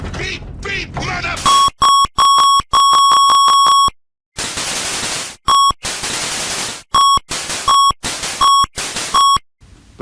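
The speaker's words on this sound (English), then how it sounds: "Old computer music sounded great." Old video game computer music of harsh square-wave beeps plays in loud staccato bursts, with short repeated tones and gaps, along with crackly static noise and brief noisy passages.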